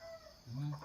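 Chickens being let out of their coop give a short, fairly close cluck or squawk near the end of a brief moment, with a quiet background beforehand.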